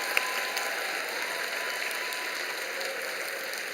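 Churchgoers at a Sunday evening worship service clap together in a steady, fairly soft spatter that carries on evenly for a few seconds, heard from a distance in a reverberant hall with a faint background hum.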